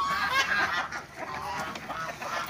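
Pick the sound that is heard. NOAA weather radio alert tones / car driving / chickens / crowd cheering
chickens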